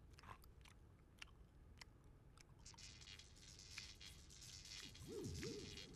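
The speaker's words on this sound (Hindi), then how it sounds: "इसे तो मैं ही चबाऊंगा, खाने में मजा आएगा।" Someone chewing boneless chicken, faint crunchy biting and mastication sounds close by in a quiet room, with a few sharp clicks and a brief voice near the end.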